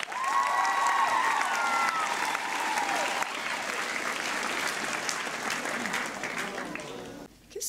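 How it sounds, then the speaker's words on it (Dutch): Audience at a song festival breaks into warm, sustained applause with some crowd noise and a voice underneath, fading near the end. "Dames en heren, mag ik een warm applaus voor Anne Mone."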